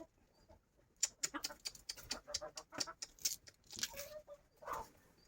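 Chickens cluck and squawk in a quick flurry of short calls, fairly close by.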